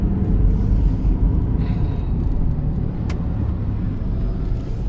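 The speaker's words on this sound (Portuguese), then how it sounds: "ó dentro da cidade aí, ó, caminhão de tora." A log truck rolls through town with a low, steady engine rumble and road noise, loud and close throughout, with no voices.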